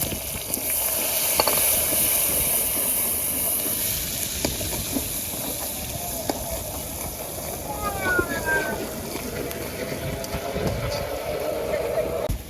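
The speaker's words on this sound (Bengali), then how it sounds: "এখন মাছ ভাজার তেলে আমি পেঁয়াজগুলো দিয়ে দিব" Sliced onions sizzle in hot oil left from frying fish, a continuous crackling hiss from the pan that runs steadily beneath a person talking.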